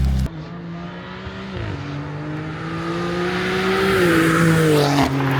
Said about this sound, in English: do a flyby just so I could hear what the car sounds like